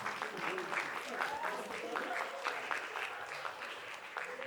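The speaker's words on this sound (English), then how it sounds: "a big round of applause for our intrepid improv warriors" Audience applause after an improv battle at a school arts show, soft and somewhat distant, with faint voices mixed into the steady clapping.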